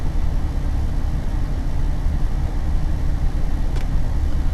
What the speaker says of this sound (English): I'm just going to turn the engine on